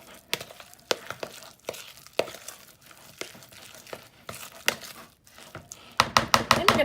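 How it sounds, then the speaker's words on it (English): Chopped cilantro folded into mashed avocado guacamole in a bowl, soft wet squelching and scraping strokes at an uneven rhythm, close up, ending in a quicker run of sharper crinkly taps, no talking. "we're just going to kind of incorporate that,"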